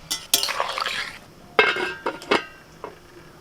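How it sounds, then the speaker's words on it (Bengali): A metal lid comes off a cooking pot of simmering ridge gourd and potatoes, sharp clinks and clanks in a few separate bursts with a soft rattle between them, fairly quiet with no talk. "দেখি ঢাকাটা খুলে কতটা সেদ্ধ হলো"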